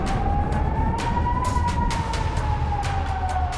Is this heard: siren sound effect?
yes